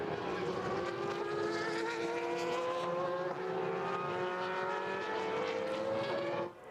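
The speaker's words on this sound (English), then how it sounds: "I love a V10 F1 car, as many people do." V10 Formula 1 car racing at the Nürburgring in a BOSS GP event, a sustained high-pitched engine wail with rising gear harmonics that holds steady and loud throughout before dipping briefly at the end.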